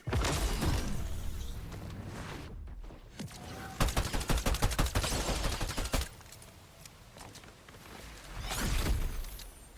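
Fortnite Zero Build gunfire comes in loud, rapid bursts amid dense game noise, with a sustained volley in the middle and whooshing effects around it.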